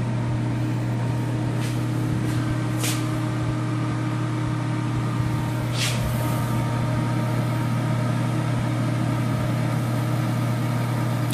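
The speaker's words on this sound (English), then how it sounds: "There's an ignition sound, or a spark plug sound, an electric sound." A ProTemp Master Heater Sun Stream PT-70 SS 70,000 BTU kerosene radiant heater runs its motor with a steady, loud mechanical hum, broken by a few brief crackling electric bursts from the ignition spark.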